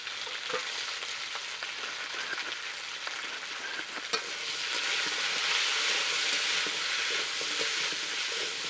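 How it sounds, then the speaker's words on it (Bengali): Flat beans, potato and egg fry in an oil-filled pan with a continuous close crackling sizzle, and occasional clicks of stirring as the hiss grows slightly louder. "ভালো করে সিম আর আলুটা ভেজে নেব"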